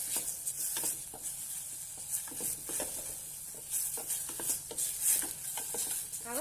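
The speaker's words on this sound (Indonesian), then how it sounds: "Kita saute daging kambing yang sudah dipotong." Cut goat meat sautéing in a pan with no liquid added, a steady close sizzle with frequent scraping stirs of a utensil against the pan.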